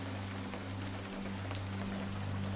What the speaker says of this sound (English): The steady patter of the raindrops provides a serene backdrop to your literary exploration